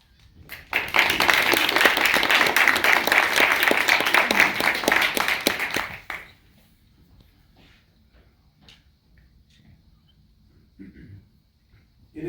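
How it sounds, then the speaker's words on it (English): An audience at an anniversary commemoration claps loudly for about five seconds, then the applause cuts off into near silence with faint room movement. "It is I who should be clapping for you"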